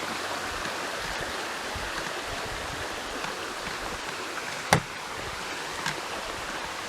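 Injune Creek flows beneath a footbridge on a park trail, giving a steady, close rushing wash of water throughout, with one sharp click partway through.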